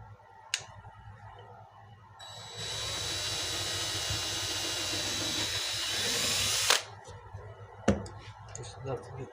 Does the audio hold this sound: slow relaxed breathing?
no